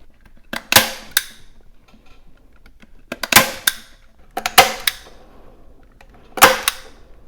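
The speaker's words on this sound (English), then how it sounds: "I'm going to go ahead and staple around the edges just to kind of pull them and hold them in place" Staple gun firing staples into upholstery around the edges of a custom center console for a 1967 Plymouth Fury VIP: four sharp, loud snaps spaced a second or two apart, with quiet handling between.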